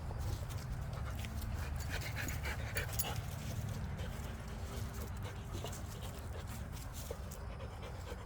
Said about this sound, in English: it's hard to correct a deaf dog or call him back